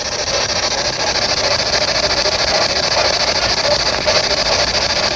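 Steady broadband radio static hisses from a ghost-hunting spirit box during a nighttime investigation at Cobb Estate, a continuous loud crackling wash with no clear breaks, running alone throughout.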